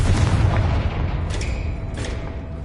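A Confringo fire spell in Hogwarts Legacy explodes with a deep, loud boom, followed by a rumbling low tail and a couple of brief crackling flares that trail off.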